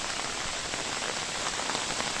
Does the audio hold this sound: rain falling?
yes